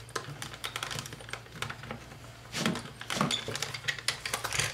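A die cutting machine being hand-cranked with folded craft material inside, giving a quick run of close, quiet clicking and ratcheting that grows slightly busier toward the end, with no talk.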